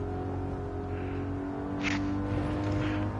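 A rival race car's engine drones steadily alongside in Gran Turismo 7 multiplayer, heard as a continuous mid-volume tonal hum with brief swells as it pulls close.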